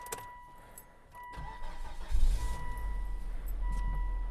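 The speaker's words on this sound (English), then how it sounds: "if I turn the car on" A 2004 Volvo XC70 engine cranks and catches, then settles into a steady low idle close by, with a chime sounding at intervals from the cabin.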